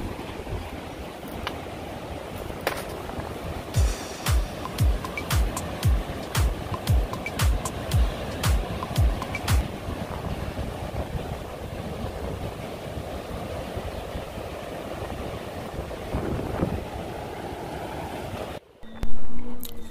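Atlantic Ocean surf breaking against the rugged coastline at Bathsheba, a steady loud roar of waves with a rhythmic series of crashes in the middle, ending in a brief louder burst.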